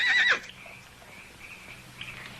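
A horse whinnies briefly at the start, a short high neigh at a moderate distance, followed by quiet outdoor ambience with a faint later call.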